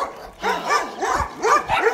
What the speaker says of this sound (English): The dogs will be barking.